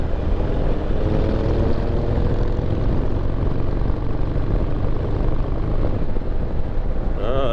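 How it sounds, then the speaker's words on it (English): A small airplane passes overhead during a group motorcycle ride, its drone blending into a continuous loud roar of engine and wind noise. "It's a little airplane."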